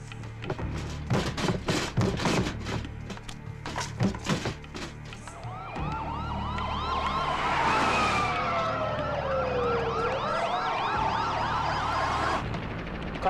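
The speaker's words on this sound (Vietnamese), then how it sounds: "rất nhiều xe cảnh sát đang đi đến chỗ chúng ta" Several police sirens wail in a Hong Kong gangster action film, their rising and falling tones growing louder as the cars approach, layered over each other after a stretch of clattering thuds and bangs.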